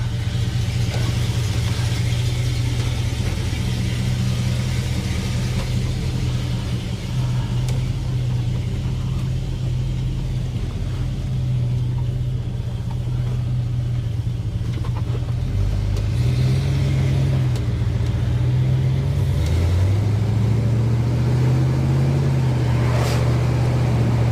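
A 1979 classic car drives along with a steady, loud engine rumble and road noise, the pitch shifting mid-run as it changes speed or gear, with no talking over it.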